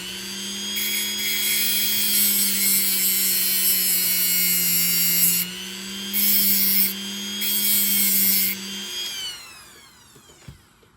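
A power tool grinds on a part of an antique A C Penn New York pocket knife being restored, a high steady whine with brief surges in pitch, then spinning down and stopping near the end.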